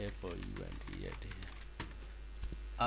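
Typing a localhost address on a computer keyboard for a local WordPress install: quick, light key clicks in an uneven rhythm, mostly beneath someone speaking.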